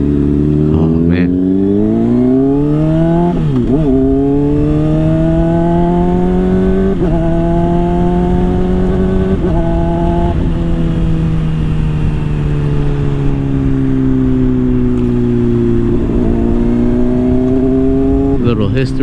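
Close, loud engine of a 2017 Honda CBR600RR sport motorcycle under way, droning steadily for the whole stretch, with several rev rises and dips as gears change while it rides.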